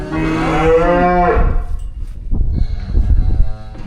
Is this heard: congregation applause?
no